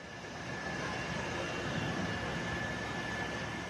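An Air Force helicopter flies over a burning market, a steady, loud, broad engine roar that holds without a break for the whole stretch, with no voices.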